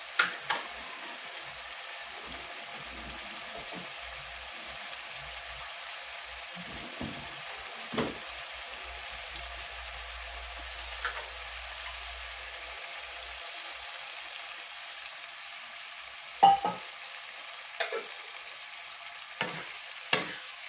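Pork sizzles quietly in a pan, a soft steady frying hiss punctuated by occasional sharp clinks and scrapes of stirring, with no talking.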